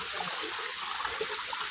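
Fast, swollen stream water rushing in the Andharban forest during a trek, a steady broadband roar that fills the short moment with no pauses.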